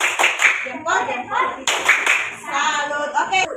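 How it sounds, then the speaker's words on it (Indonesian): Schoolchildren in a classroom clap for a classmate in short rhythmic bursts, sharp claps mixed with lively voices calling out together and a teacher talking over the beat. "Oke, tepuk tangan dulu untuk Dayat."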